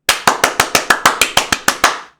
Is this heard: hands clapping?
yes